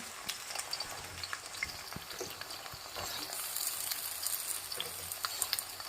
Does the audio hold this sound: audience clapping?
no